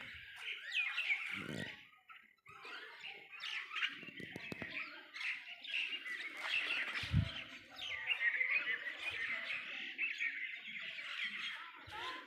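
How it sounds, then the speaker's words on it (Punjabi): A flock of birds chirps and tweets steadily around scattered bird feed, a dense, continuous chatter of small calls with a few soft thumps and rustles nearby. "ਚੋਗਾ ਸੀ ਪਾ ਦਿੱਤਾ ਪੰਛੀ ਸਾਰੇ ਕੋਲੇ ਆ ਗਏ ਨੇ"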